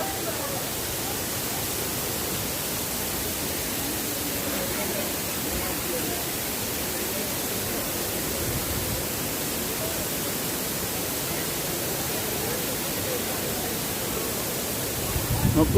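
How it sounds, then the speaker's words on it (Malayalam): Erachilppara waterfall in Kanthalloor pours from a height like falling rain, a steady broadband rush of water that holds constant and fills the scene from start to finish. "അത്യാവശ്യം ഉയരങ്ങളിൽ നിന്നാണ് ഈ വെള്ളം താഴേക്ക് മഴ പെയ്യുന്ന രൂപത്തിൽ ചാടുന്നത്"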